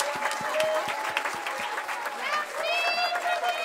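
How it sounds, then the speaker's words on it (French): An audience applauds loudly after a Christmas show in a hall, with dense sustained clapping, some cheering and voices calling out over it. "Allez, on les applaudit bien fort."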